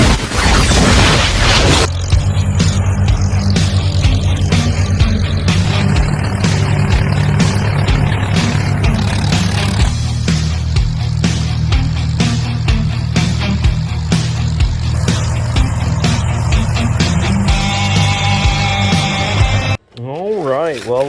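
An old tractor engine cranks and catches, then runs with a loud, lumpy, uneven chugging that stays close and steady before cutting out abruptly near the end.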